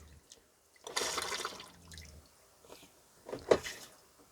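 An RV trailer toilet flushes with very little water, a short gushing rush followed by gurgles, drips and a wet squelch, heard close with no talk over it.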